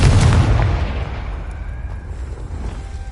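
A Confringo spell blast in the Hogwarts Legacy video game: a single loud, close explosive boom that opens the clip and decays into a rumbling tail with no talk.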